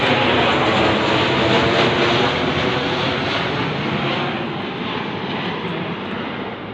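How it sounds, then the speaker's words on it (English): An airplane flies overhead with a loud, steady engine roar that fades slowly toward the end, with no talking. "there's another plane going over, I think."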